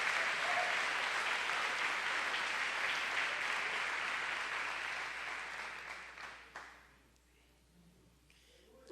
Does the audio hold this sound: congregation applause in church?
yes